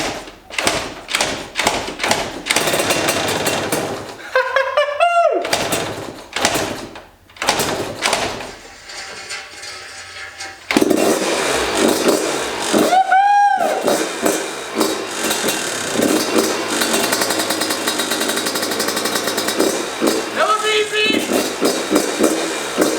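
A Yamaha YZ125 two-stroke dirt bike gets kicked over with thumps and clatter, then catches and runs, its engine buzzing loudly and rising and falling through sharp revs close by.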